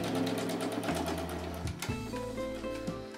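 A sewing machine stitching scrap fabric strips onto a quilt: a close, loud, rapid mechanical whir that shifts pitch as it speeds up and slows down, with no talking.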